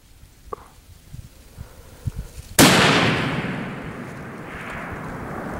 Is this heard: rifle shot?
yes